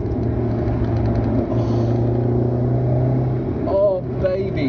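An Alfa Romeo GTV coupe from the mid-1990s with its smaller non-V6 engine holds a steady, close, throaty hum at raised revs for several seconds, with a brief pitch shift near the end.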